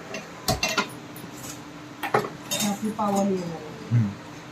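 A metal lid set onto a pot of pav bhaji, several sharp clanks and clinks of metal on metal close up, with a bit of talking between the knocks.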